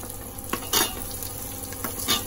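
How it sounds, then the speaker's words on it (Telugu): Onions, carrot and green chillies fry in a pan, a close, continuous sizzle broken by a few scraping stirs of a spatula, with no speech over it. "ఉల్లిపాయలు వేస్తున్నాను, ఏగుతాయి."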